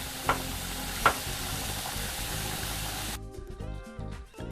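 Paneer sautéing in a pan, a steady moderate sizzle with two sharp utensil knocks early on, then the frying continues quieter and thinner toward the end.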